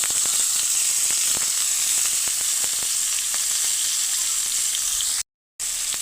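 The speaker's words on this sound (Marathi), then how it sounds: "त्याच्यावर तेल टाकून घ्यायचं आता मस्तपैकी. तेलात भाजून घ्यायचे खरपूस कडक." Vegetable slices fry in hot oil on a village wood-fired clay stove (chulha), giving a steady, close, hissing sizzle that cuts out for a moment just before the end.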